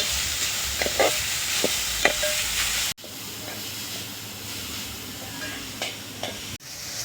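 Grated carrot sautés in a hot pan, a steady close sizzle broken by scattered scrapes and taps of a spatula stirring, with a short cut partway through.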